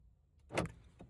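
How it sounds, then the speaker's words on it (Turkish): Honda Civic engine starting by smart key remote start: a short burst of mechanical noise near the middle, fairly close, with a smaller click toward the end. "3. butona basılı tuttuk. Aracımız çalıştı."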